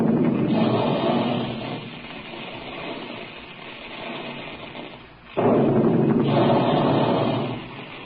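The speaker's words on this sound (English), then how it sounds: "There go the big guns now" Old-time radio sound effect of big guns firing, a heavy rumbling blast that swells, fades, then booms again loudly, in a Dick Tracy radio broadcast.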